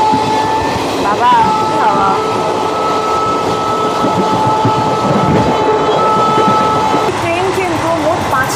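Inside the Maa Tara Express running from Sealdah toward Bolpur, a loud, steady rumble and rattle of the carriage carries on throughout, with brief metallic squeals and a faint murmur of voices beneath.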